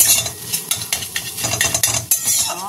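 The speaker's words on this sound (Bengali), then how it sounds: "আর এখানে এই যে ডিম ঝুড়ো করছি, দুটো ডিমকে।" Two eggs being beaten in a bowl in a home kitchen while pasta is prepared: rapid, steady clinking and scraping of a utensil against the bowl, close and fairly loud, with no talking.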